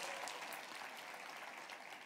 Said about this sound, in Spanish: Dele un aplauso al rey, dele un aplauso.